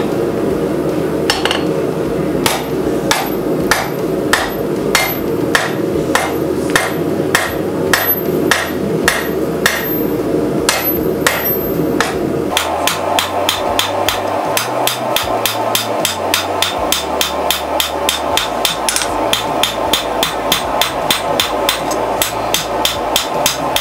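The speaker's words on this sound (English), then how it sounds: "then we can get on forging this blade out" Hammer blows forging a recurve chopper blade from a huge piece of rebar steel, ringing metallic strikes at a steady beat that quickens into rapid, close repeated hits in the second half.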